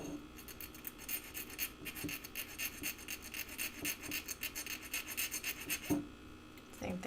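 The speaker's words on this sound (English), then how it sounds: "I'm filing to the inside of that wire, just to take off a little bit more." A hand file rasps against jewelry wire in steady, continuous back-and-forth strokes, fairly faint and close, with a brief pause near the end.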